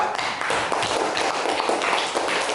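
Students in a classroom applaud a presenting group, a short burst of brisk, dense hand clapping from many pupils, near and steady with no talk over it.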